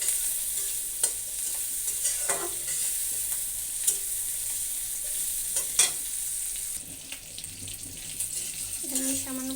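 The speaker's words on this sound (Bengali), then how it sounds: "এটাকে সুন্দর করে বাদামি কালার করে ভেজে নেব, মশমশা করে ভেজে নেব আমি।" Shrimp frying with turmeric in a pan, sizzling steadily with occasional stirring clatter and utensil knocks, close and continuous, with no talk.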